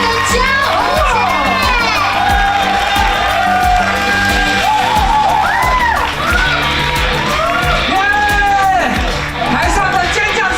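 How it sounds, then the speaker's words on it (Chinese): A lively TV variety show stage with the audience shrieking and whooping, high excited voices rising and falling continuously over a dense crowd din with talk mixed in. "台上的尖叫声不够大。"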